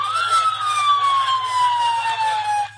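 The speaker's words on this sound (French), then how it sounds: "utilisaient illégalement la sirène et le gyrophare." A police-style siren on a vehicle wails loud and close, one long sweeping tone that slowly falls in pitch, over low steady engine rumble, with no speech.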